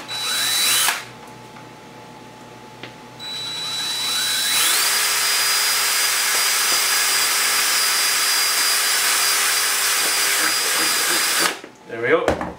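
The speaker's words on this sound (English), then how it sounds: "So I'm just going to pop it in, give it a quick drill." A small power drill with a small bit whines at high pitch for several seconds, steady and close, starting and stopping with brief handling noises around it.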